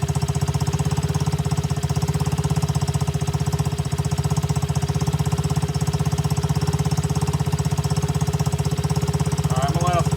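An X-pro Bolt 110cc motorbike engine idling just after a choke start, a steady rapid low putter that stays even and close throughout, loud and unbroken.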